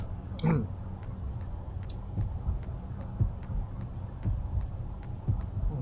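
A slow, steady heartbeat thumps under a low ambient drone in the video game Yomawari: Night Alone, with faint regular clicks and an occasional sharp sound effect.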